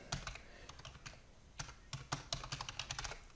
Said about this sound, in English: In here, type in your domain.